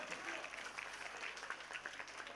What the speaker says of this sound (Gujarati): એકવાર જોરદાર તાળી થઈ જાય